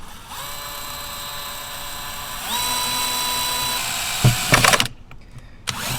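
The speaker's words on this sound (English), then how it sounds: "And then we're going to go ahead and drill that with a 4-inch hole saw." A drill spins up a bent, out-of-balance 4-inch hole saw, a loud steady whining motor that rises in pitch, then a brief rough burst of cutting before it stops.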